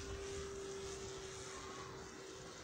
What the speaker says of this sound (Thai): ใบพัดคงต้องเป็นใบแข็งนะครับ มอเตอร์สั่นนะครับ